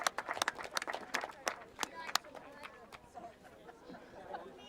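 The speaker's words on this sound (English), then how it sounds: "So a big round of applause" Scattered applause from a small audience at a grasstrack motorcycle racing awards ceremony, sharp individual claps loudest at first then thinning into softer patters and background crowd murmur.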